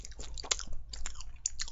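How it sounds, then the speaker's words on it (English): Close-up chewing of food, a quick rhythmic series of moist bites and crunches packed into under two seconds, with no talking. "Chewing sounds."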